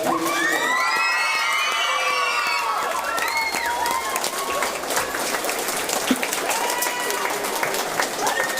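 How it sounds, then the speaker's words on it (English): Crowd applause and cheering with children's shouts and whoops after a Galway Senior B camogie final between Clarinbridge and Salthill, loud and sustained, with voices mixed into the noise. "everyone here should stand up and give a huge round of applause to everyone who participated in that"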